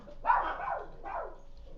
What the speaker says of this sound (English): Just wait for these dogs to stop barking